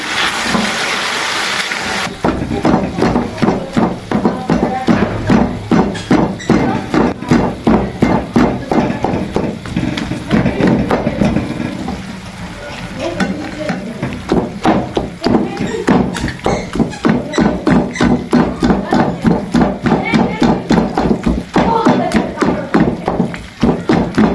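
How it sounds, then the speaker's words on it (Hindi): Rapid, regular knife chops through chicken pieces on a board, cutting them smaller for shawarma, loud and close, with someone talking over the cutting. "मैं थोड़ा ना छोटा करूंगी इसको ना, बहुत बड़ी बड़ी सी है जरा ना"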